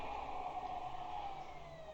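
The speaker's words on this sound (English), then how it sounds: "I think the ambulance is here." An ambulance siren in the video game Silent Hill Ascension, a steady wail with a slowly falling pitch, sounds continuously, fairly distant and muffled, with no voices over it.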